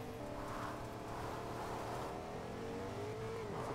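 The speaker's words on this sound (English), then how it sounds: "So I drive this vehicle all the way to the Stormtroopers." Vehicle driven in a Star Wars video game, a steady engine drone with a rising whine running continuously at fairly close range, no voices over it.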